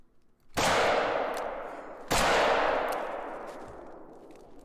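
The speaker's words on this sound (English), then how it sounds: "So we're just going to take a shot with the 44." Two loud .44 gunshots fired at an elk in the hunting game Call of the Wild: theHunter, each a sharp close blast with a long rolling echo tail, about one and a half seconds apart.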